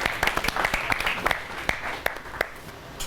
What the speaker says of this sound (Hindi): तो जोरदार तालियों के साथ स्वागत करिए डॉक्टर प्रेरणा ठाकरे जी का